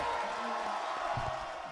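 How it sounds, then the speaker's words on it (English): A comedy club audience cheers in a steady, dense crowd roar, loud and continuous throughout the short stretch with no clear individual voices. "The crowd is in chaos right now."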